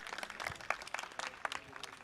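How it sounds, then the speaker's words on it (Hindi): An audience at a religious gathering claps in a steady, moderately distant patter of many hands, with no voices over it. "जोरदार जोरदार ताली बजती होनी चाहिए।"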